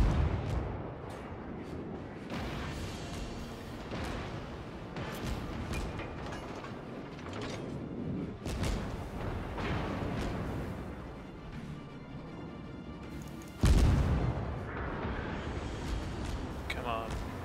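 Naval gunfire in the World of Warships video game, with heavy booming salvos and rumbling impacts over engine and sea ambience, one especially loud blast near the end, with someone talking over the action.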